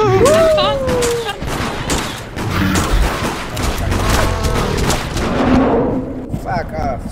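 Rapid gunfire bursts and booming shots from a video game firefight, dense and continuous, with players talking excitedly over the shooting throughout.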